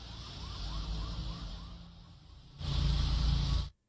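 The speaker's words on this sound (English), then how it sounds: "So that's police sirens in the Tel Aviv feed." Wailing police sirens sound from a distance in Tel Aviv, rising and falling, then a louder, harsher blast of traffic noise swells before cutting off abruptly.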